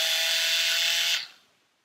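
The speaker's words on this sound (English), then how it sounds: "it has a small motor in it that you switch on, which makes this shaft and the little paddle at the end spin." A battery-operated Master Tools paint mixer whirs with a steady, high-pitched motor whine as its small motor spins the shaft and little paddle, close and fairly loud, then cuts off and winds down quickly.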